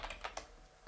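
Typing on a computer keyboard: a quick run of soft, close key clicks in a quiet room, with no talking.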